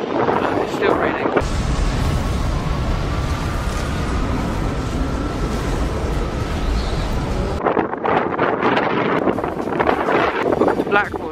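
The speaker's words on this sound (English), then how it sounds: "it's too windy for that to be fun" Heavy wind buffets the microphone in a loud, continuous roar in rainy Blackpool, with voices talking faintly at the start and end.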